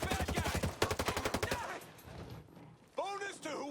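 Bursts of assault rifle gunfire from a Ghost Recon Breakpoint firefight, a fast run of loud sharp shots followed by a pause, then brief talk over quieter game sounds.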